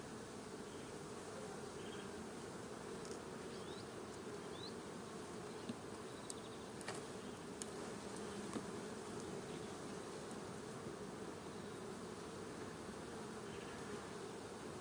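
A dense, continuous buzz of many honey bees in a hive close by, steady and unbroken throughout, with no voices.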